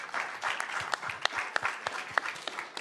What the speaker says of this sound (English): let's give Councilman Leon a big round of applause.